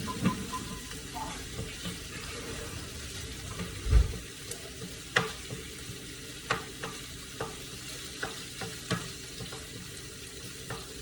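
Italian sausage for zucchini boats frying in a pan, a soft steady sizzle with scattered sharp scrapes and knocks as the meat is broken up, near and fairly quiet, no talk over it.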